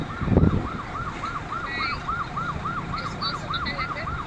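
A fire truck siren wails in a steady repeating rise-and-fall, moderately loud and continuous, with a brief low thump near the start and faint higher chirps above it.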